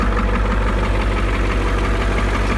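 A Ford 7.3L diesel engine in an OBS truck idles close by, a loud, steady low rumble with a rapid knocking pulse throughout.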